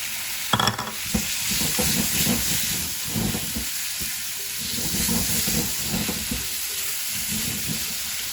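Tomatoes hit frying masala with ginger and garlic, giving a loud, dense sizzle and steamy hiss that runs continuously, with stirring scrapes and a burst of spatter near the start.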